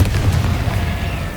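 A Confringo fire spell explodes in the Hogwarts Legacy video game on PS5, a loud sustained rumbling blast with deep low-end roar and crackling, with no talking over it.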